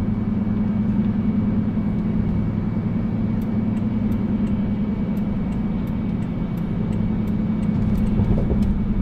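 Steady car traffic on Houston's 610 Loop highway, a continuous loud roar of passing vehicles and tire noise heard from a moving car, with no talking.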